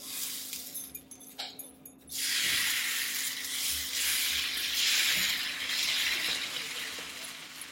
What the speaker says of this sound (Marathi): डोसा पॅन ठेवलेला आहे आणि हे बॅटर ह्याच्यावर मी घालून घेत आहे